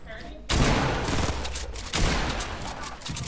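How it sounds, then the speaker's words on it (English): Fortnite gunfire in rapid, heavy bursts, two loud volleys a second and a half apart, each followed by sustained firing, close and dominant with almost no voice present. "Yo, this kid is shooting at me from behind my back."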